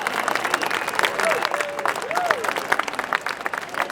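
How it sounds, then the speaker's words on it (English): Applause from a crowd at an independence rally in George Square, Glasgow, a steady dense outdoor roar of many hands with cheering voices mixed in throughout. "Can we actually hear a big round of applause for Pensioners for Indy, please?"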